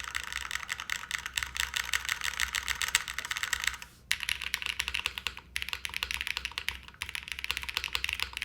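Steady, rapid clacking of a QK80 mechanical keyboard with bottom foam, being typed on, close and continuous, with two brief pauses partway through.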